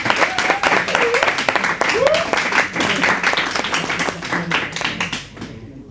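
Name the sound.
applause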